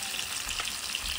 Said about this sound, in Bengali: ইলিশ মাছ দিয়ে দিয়েছে, ভাজা হচ্ছে